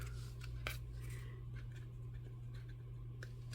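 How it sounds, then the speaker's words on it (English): Quiet snips of scissors trimming the edge of a paper card, a few soft clicks over a steady low hum. "I just take my scissors, flip it over,"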